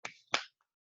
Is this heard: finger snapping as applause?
yes